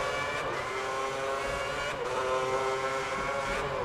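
A Formula 1 car in the F1 2010 video game runs through the Monaco tunnel, its engine a steady high-pitched whine held loud and continuous throughout, with faint tyre noise.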